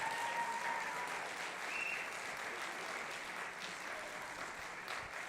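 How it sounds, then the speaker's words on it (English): Audience applause at an evening school concert featuring student musicians, chorus and band, a steady dense wash of many hands clapping throughout, fairly distant and even in level. "Let's have one more round of applause for all of our student musicians and the chorus and the band this evening."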